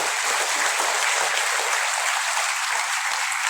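Loud, dense clapping from a crowd welcoming a guest of honour at a former governor's 89th birthday celebration, steady and continuous throughout.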